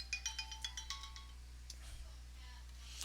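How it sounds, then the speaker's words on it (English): A mobile phone plays a bright, rhythmic ringtone of quick chiming notes for about a second and a half, then stops, leaving a low electrical hum indoors. "Sorry, my phone just rang."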